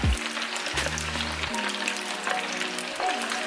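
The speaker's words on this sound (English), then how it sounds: "Let them fry up." Chicken pieces frying in hot oil for Korean soy honey garlic fried chicken, a loud continuous crackling sizzle with a steady hum underneath throughout.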